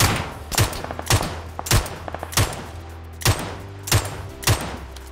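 Gunfire in the battle royale video game PUBG: sharp loud shots in about eight evenly spaced single cracks with short echoing tails, close and punchy against a quiet game background.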